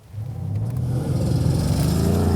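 A Mercedes-AMG C 63 saloon with a Speed Shift MCT 7-speed transmission surges off the line in a launch-control race start, its engine building from a low rumble into a loud, sustained, rising roar up close.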